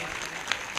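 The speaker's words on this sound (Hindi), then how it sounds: "एक जोरदार ताली बजाकर प्रभु को धन्यवाद करें।" A church congregation claps loudly in thanksgiving, a short dense burst of many hands applauding at once.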